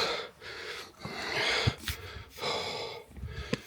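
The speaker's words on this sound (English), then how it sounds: "especially makes it so much harder breathing in that cold air" Heavy, labored breaths of a hiker climbing rocky slopes of Mount Ruapehu in cold air, close gasps and snorts in an uneven rhythm, with wind rush between breaths and no talking.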